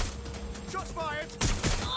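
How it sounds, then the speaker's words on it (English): A short burst of gunfire in Watch Dogs Legion, several quick shots in a loud exchange mixed with game voices and chatter. "Shots fired!"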